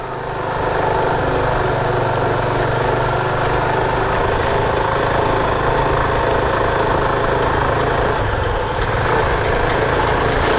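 A motorbike running low on fuel idles near Vagamon with a continuous, even engine drone that holds close and loud from start to finish, with no one speaking.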